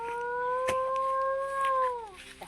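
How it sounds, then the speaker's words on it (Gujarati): A dog howls at night near farm fields: one long, steady, close-sounding wail that slides downward and fades at the end, heard alone. "કૂતરો બુતરો હશે રાતનો"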